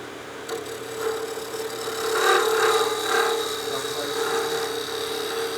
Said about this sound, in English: now I can switch to my skew, and we'll be using this as a negative rake scraper just to refine and smooth out the surface